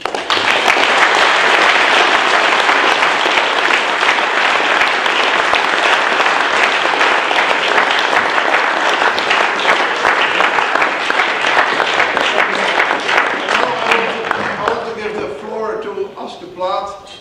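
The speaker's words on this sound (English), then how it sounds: "I ask for applause for you." Sustained, loud applause from a crowd, dense clapping throughout that thins out near the end as a voice starts speaking.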